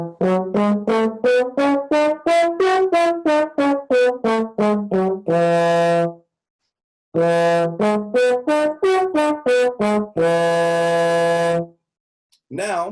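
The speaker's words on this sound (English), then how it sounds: "if I were to practice an F Mixolydian scale to the 9 and back down" A trombone plays an F Mixolydian scale and arpeggio up to the ninth and back down, a run of separate articulated notes climbing and falling, ending on a long held tone, then repeated after a short pause.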